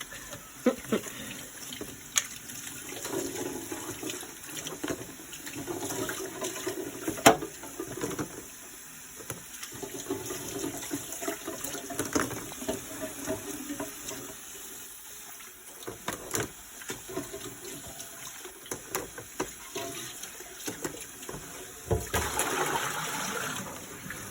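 Cold tap water runs steadily into a sink, a continuous hissing splash with small shifts in flow, close by and uninterrupted for the whole stretch; the water is well water.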